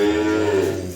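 A dairy cow offered for sale gives one long, loud, close moo that holds steady and then fades near the end, with no other voices.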